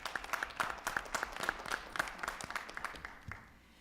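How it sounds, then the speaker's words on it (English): Audience applause for students at a school board meeting, a modest group clapping briskly and fairly close, lasting a few seconds before tapering off. "Ladies and gentlemen, please give our students of Nova Academy a round of applause."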